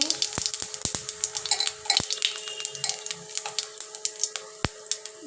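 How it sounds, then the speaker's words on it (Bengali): White cumin seeds and dried red chillies sizzle and crackle in hot oil in a pan, making a busy stream of sharp pops and ticks over a steady frying hiss, close and moderately loud, with no talking. "তেল আমার গরম হয়ে গেছে, দিয়ে দিলাম সাদা জিরে।"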